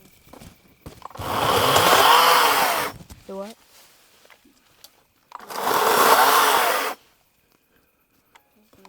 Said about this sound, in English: Go ahead and hand me that chainsaw too.